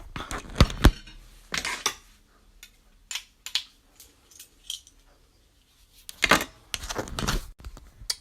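Garlic smasher crushing garlic in a kitchen, a few sharp metallic clacks and scraping clicks scattered between quieter pauses, close and fairly loud.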